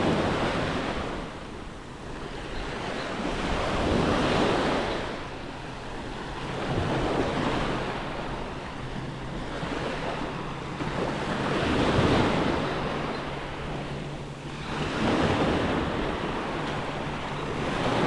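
Waves break on a small coral beach on Pangkor Island at high tide, rolling in with rhythmic swells every few seconds over constant wind noise on the microphone, close and fairly loud, with no voices.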